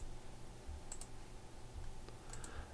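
Two faint, crisp mouse clicks on an on-screen menu button of a Korean tax website, heard at close range over a quiet computer room hum, spaced about a second and a half apart.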